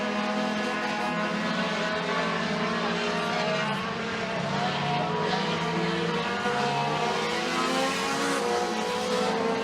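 Mini stock race cars roar down the back straightaway at McKean County Raceway, a dense, steady engine drone with shifting pitch as several cars run close together, loud and continuous with no break.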